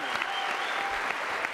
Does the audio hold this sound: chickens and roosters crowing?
no